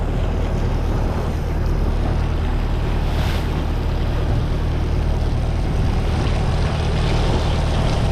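A fishing boat out on the deep sea off Mumbai roars along steadily, its engine drone mixed with rushing water and wind buffeting the microphone, loud and continuous with no voices.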